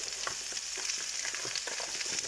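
Lardons frying with courgettes in a pan: a dense, continuous close crackle and sizzle with faint stirring scrapes, no voices.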